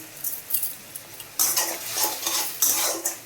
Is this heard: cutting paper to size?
no